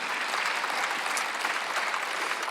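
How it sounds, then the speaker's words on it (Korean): A church congregation applauds during a Sunday worship service, a steady, even wash of many hands clapping together, moderately distant and uninterrupted. "박수 치며 들으시 바랍니다"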